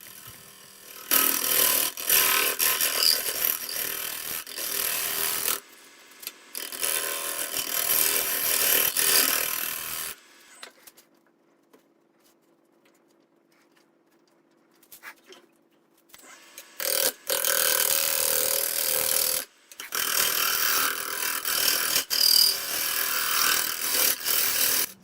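A wood lathe spins hard, warped, out-of-balance wood as a turning tool skips off it, making loud, harsh scraping bursts close by that stop for several seconds in the middle and then resume.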